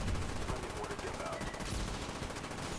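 Sustained rapid gunfire fills a Call of Duty Black Ops round on PC, dense automatic bursts crackling nonstop and loud with no pause, a voice faintly mixed underneath.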